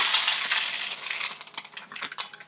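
A cascade of chocolate chips rattling and clinking into a metal bowl, a dense patter that thins into a few last scattered taps.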